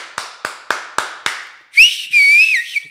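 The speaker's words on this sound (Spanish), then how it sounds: "Y ahí están aplaudiendo y chiflando." Five sharp claps in a steady rhythm, then a loud, piercing whistle with a sliding pitch, briefly broken and then held, close and clear, at a political campaign event.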